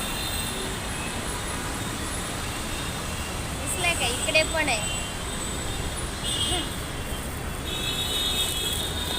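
Road traffic pulls away from a signal at a busy multi-road junction in Santa Cruz West, Mumbai, a dense steady roar of engines with a few horn toots midway, while a person speaks briefly over it.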